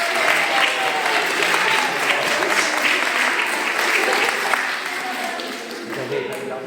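Guests applaud at a baptism celebration in Ussel, dense sustained clapping from a close indoor group that stays loud and steady before thinning slightly toward the end, with scattered voices underneath.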